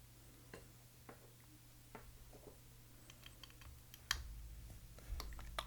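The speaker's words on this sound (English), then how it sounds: "And let's do a quick typing test," Keys clack on an Enso-E prototype mechanical keyboard in Botanical with MX switches, a quiet, irregular run of crisp individual keystrokes, close up and alone, growing a little busier near the end.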